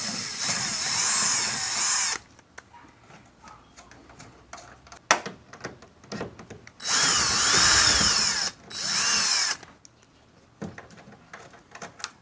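A power tool drives out the outer tail light bolts on a Honda Odyssey in loud, close whirring bursts of a couple of seconds each, separated by quieter clicks and handling noises.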